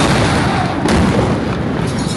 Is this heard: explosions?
yes